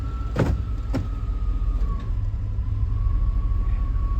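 Engine of a 1991 Chevy Silverado pickup running as it is shifted into gear, a steady low rumble with two sharp clunks near the start and a faint whine throughout.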